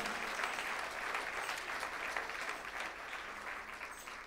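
A church congregation at a sermon gives sustained applause for over four seconds, an even wash of many hands clapping at moderate distance that slowly eases.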